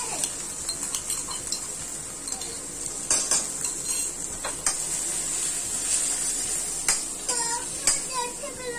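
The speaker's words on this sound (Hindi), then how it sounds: "इसके बाद हम डाल देंगे लहसुन का पेस्ट" Ginger-garlic paste added to a hot pan while cooking Kashmiri rajma, with a steady sizzle and repeated scraping and stirring of a utensil against the pan, close and continuous.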